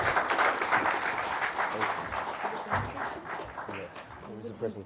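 An audience at a transit-oriented development workshop applauds to welcome a speaker to the dais, a steady wash of clapping that thins out toward the end as voices come through.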